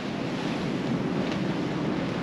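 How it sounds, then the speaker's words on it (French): Steady wind from astern rushes over the microphone while waves wash and slosh continuously against a sailing boat at sea off Scotland, loud and unbroken. "le vent il vient de derrière le bateau"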